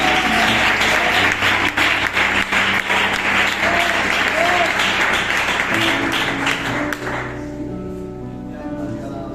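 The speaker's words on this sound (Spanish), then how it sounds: "Dale un aplauso al Señor." A church congregation claps during a sermon, a loud, dense burst of close applause with many hands that fades toward the end as voices and background murmur take over.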